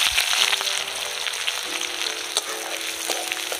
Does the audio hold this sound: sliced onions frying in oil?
yes